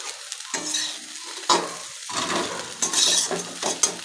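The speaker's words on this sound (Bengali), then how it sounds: "তো সোয়াবিনটা ভাজা হোক" Soybean chunks frying in hot oil and stirred in a pan, a steady sizzle broken by repeated scraping strokes and clinks of the spoon, close and fairly loud.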